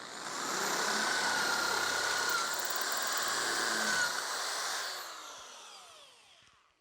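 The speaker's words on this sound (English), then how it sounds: "plan A is to just drill and tap the hole" Power drill boring and tapping a hole in a metal remote oil filter bracket for a Porsche 911 restoration, a steady loud whine lasting several seconds that winds down and fades at the end.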